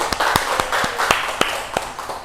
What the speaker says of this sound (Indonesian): Beri aplaus buat kita semua.